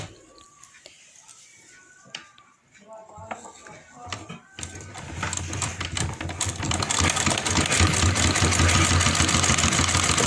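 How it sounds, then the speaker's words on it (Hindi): A sewing machine stitching the finishing seam on a kurti starts up partway through and then runs steadily and fairly loud, with quieter rustling and handling before it. "अब देखिए, मैं इस पे फिनिशिंग वाली सिलाई चलाऊंगी।"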